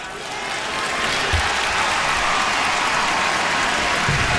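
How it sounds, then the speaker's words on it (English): A crowd applauds a player at a men's college basketball game, Kansas at Texas A&M, sustained and loud throughout, with arena crowd noise filling the space. "He gets a nice round of applause as he's up."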